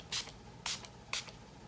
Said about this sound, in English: I'm going to be using my Wet n Wild Natural Finish Setting Spray.